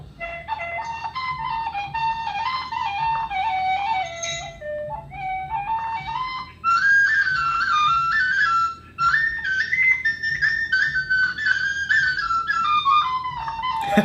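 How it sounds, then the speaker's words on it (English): A melodic whistle is played alone, a clear continuous tune sliding up and down between notes, fairly loud and near, with no voices. "The whistle's good."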